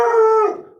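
A single pet dog lets out one loud, close, drawn-out howling bark that holds a tone and then trails off, with no talking over it.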